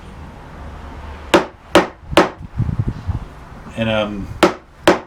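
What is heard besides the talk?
chisel struck to make a stop cut in wood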